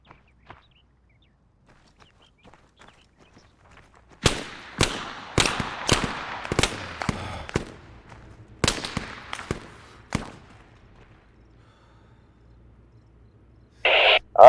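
Arma 3 gunfire: a series of sharp, fairly distant shots cracking irregularly against near silence, about a dozen reports over several seconds, then a pause before a louder burst at the end.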